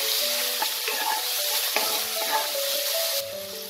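Spice paste with chopped tomato fries in a pan for a Bengali vegetarian lentil-dumpling curry, giving a steady close sizzle broken by a few scraping stirs, with the hiss dropping slightly near the end.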